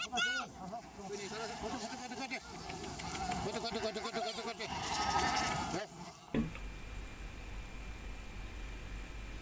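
Icelandic sheep bleat loudly and steadily at close range on a farm, with a leader sheep among them being called, ending abruptly into quiet wind noise.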